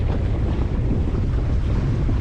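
Strong wind roaring and buffeting close to the microphone aboard a sailing lugger, a constant loud rumble with no talking.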